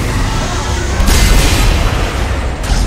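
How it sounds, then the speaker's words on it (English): A gun firing in a space video game, heavy booming blasts over a loud rumbling bed of game noise, with a burst of shots near the middle. "Then I'm just gonna shoot it."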